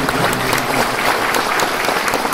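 Audience applause at the launch event for the Canon EOS-1D X Mark II in Vietnam, a dense, steady burst of many hands clapping filling the room without pause.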